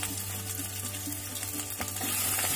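Whole cumin seeds and grated ginger sizzle in hot oil for a Gatte sabji, a steady close frying crackle and hiss with faint clinks, with no voices.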